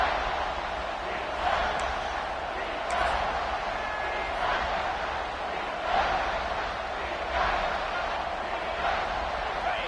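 A packed college football stadium crowd roaring continuously at a Penn State versus Illinois game, a loud sustained wash of noise with swells, under an announcer's commentary.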